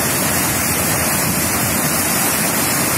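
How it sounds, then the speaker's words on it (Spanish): Water rushing through the full channel linking Laguna San Pedro to the lower Redondilla lagoon at Lagunas de Ruidera, a loud, steady, close roar with no pauses and no voices. "Este es el caudaloso brazo que une la Laguna San Pedro, echando el agua a su hermana de nivel inferior"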